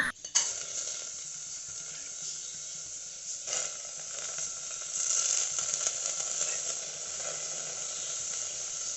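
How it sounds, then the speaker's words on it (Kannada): Soaked toor dal and water go into a pressure cooker on a lit stove, a steady bright hiss and sizzle running throughout with a few clinks and a brief surge of splashing partway through. "ಸ್ಟವನ್ನು ಆನ್ ಮಾಡಿ ಕುಕ್ಕರ್ನಲ್ಲಿ ಈ ನೆನೆಸಿರುವಂತಹ ತೊಗರಿ ಬೇಳೆಯನ್ನು ಹಾಕೊಳ್ತಾ ಇದ್ದೇನೆ"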